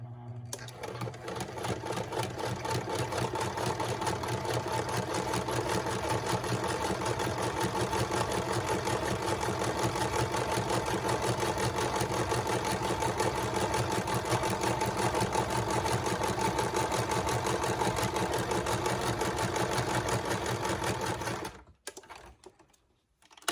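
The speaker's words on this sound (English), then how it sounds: "I'm using black thread, black thread, and I'm doing a zigzag stitch. So here we go." Sewing machine running a zigzag stitch with black thread on journal tags and covers, a steady close mechanical whirr with fast repeating needle clatter that stops abruptly near the end.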